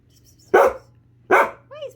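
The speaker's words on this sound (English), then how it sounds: "Why is Puppy so noisy?" Two loud, sharp barks from a pet dog named Princess, spaced about a second apart indoors, followed by a brief higher-pitched yip or whine.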